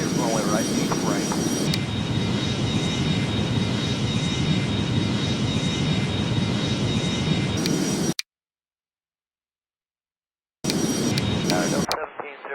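Jet airliner engines spool up for takeoff in the flight game Airline Commander, a loud steady roar holding for about eight seconds, then dropping out abruptly and returning briefly near the end under faint radio chatter.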